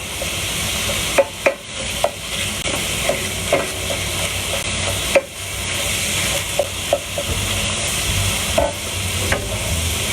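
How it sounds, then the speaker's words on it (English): Hamburger meat sizzles steadily in a frying pan while a utensil stirs and scrapes it, giving irregular clicks and knocks over a constant frying hiss, close up with no talk. "you can hear the hamburger sizzling"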